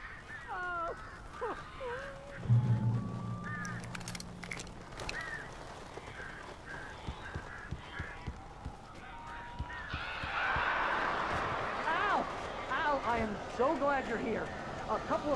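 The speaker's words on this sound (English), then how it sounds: "These birds are weird." Strange birds cawing and honking inside the Alan Wake video game, scattered harsh calls over low game ambience, joined by a louder burst of flapping and noisy bird cries near the end.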